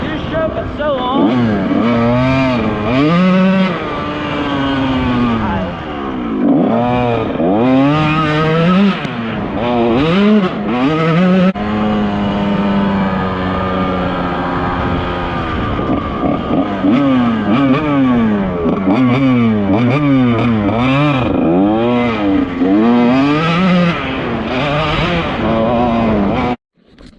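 A 1996 Kawasaki KX125 two-stroke dirt bike being ridden, its high buzzing engine revving up and down through repeated shifts and throttle swells, loud and close for almost the whole stretch before cutting off abruptly.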